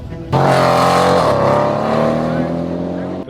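A tuned straight-line car launches hard, its engine bursting in loud and close, then holding a strong rising roar that dips briefly partway through before fading slightly.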